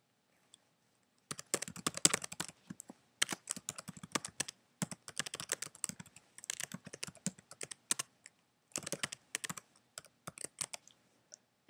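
Fingers typing a username and password on a computer keyboard, close crisp key clicks in quick bursts separated by short pauses, with no talking.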